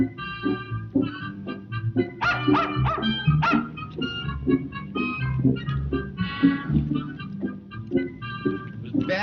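Dog barking repeatedly in a 1938 film comedy, loud sharp yaps and yips in close bursts over a busy background of music or room noise, with no talk.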